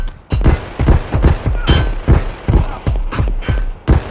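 Loud, close gunfire from the video game Escape From Tarkov, a rapid run of sharp shots in an uneven rhythm, about a dozen bursts in quick succession.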